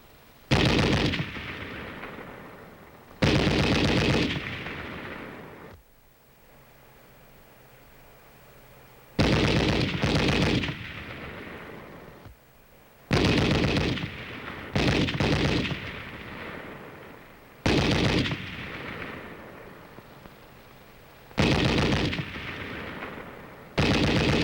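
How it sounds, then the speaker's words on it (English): Battlefield machine-gun and rifle fire crack out in loud, sharp bursts, some in rapid rattling strings, separated by short gaps with a low engine hum beneath. "something for which there is no substitute is the sound of bullets whizzing overhead and the necessity for keeping close to the ground"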